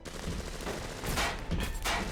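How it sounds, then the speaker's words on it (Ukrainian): Several bursts of gunfire crack through a dense, noisy soundscape in the video game BioShock Remastered, coming in quick clusters over about two seconds. "Що, хто стріляє?"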